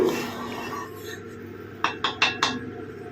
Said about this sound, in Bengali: প্রথমে কড়াই বসিয়ে কড়াইতে সর্ষের তেল দিলাম